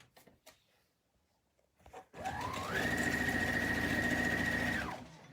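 Sewing machine stitching a recessed bag zip over pins, starting after a few light handling clicks and then running in one steady whirring burst of a few seconds before stopping.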